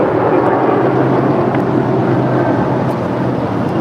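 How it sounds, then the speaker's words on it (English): A seven-year-old Spirit Airlines Airbus A320 leaves LAX for Dallas Fort Worth as a loud, steady broadband roar with wind buffeting the microphone throughout. "This is Spirit Airlines Flight 868 departing to Dallas Fort Worth"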